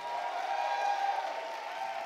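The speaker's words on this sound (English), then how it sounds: "Clap your hands and shout like you believe it." A keynote audience at a conference claps and cheers together, a steady, faint wash of applause heard from a distance in a large hall.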